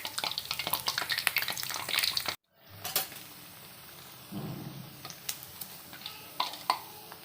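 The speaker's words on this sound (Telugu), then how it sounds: "ఇదంతా నేను కొంచెం మీడియం కంటే ఎక్కువ ఫ్లేమ్ పెట్టేసి కాల్చుతున్నాను" Bobbari garelu, black-eyed pea fritters, fry in hot oil in a pan with a steady crackling sizzle, briefly cut off and then resuming more softly with scattered pops.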